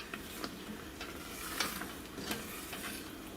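A spoon scrapes around the sides of a pan of thick homemade Christmas fudge, giving a steady, soft stirring and scraping sound with faint sizzling underneath and no talking.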